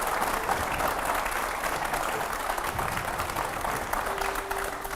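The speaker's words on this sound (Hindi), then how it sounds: "जोरदार तालियों से एक बार फिर से स्वागत करिए।" Steady, dense applause from a studio audience welcoming a guest on a television news debate show, loud and continuous throughout with no break.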